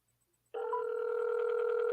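A telephone rings on speakerphone, a steady electronic ring tone that starts abruptly after a brief silence and holds loud and continuous to the end, with no talk over it.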